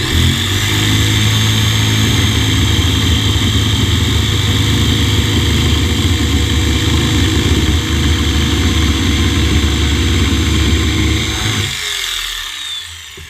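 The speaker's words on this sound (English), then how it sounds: "The table of the jigsaw is right here, and I want that flat on my board as I go to make my cut." A jigsaw cuts a handle out of a board, a loud continuous buzzing whine held for about eleven seconds before it winds down and stops.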